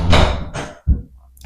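A door swinging and being shut indoors, a close whooshing sweep followed by a solid thud and a faint rattle as it settles.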